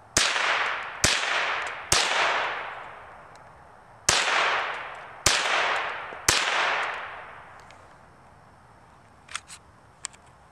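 A Marlin Model 60 rimfire rifle fires six sharp, loud shots in an uneven rhythm, each followed by a short ringing decay. Faint metallic clicks come near the end.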